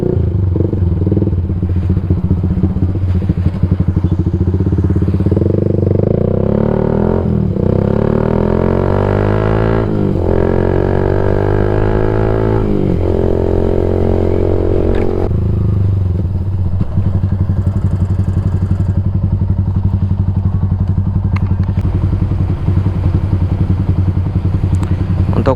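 A Yamaha MX King 150 motorcycle fitted with a UB Bpro racing exhaust idles with a rough burble, then revs up in several throttle blips around the middle before settling back to a loud, close idle.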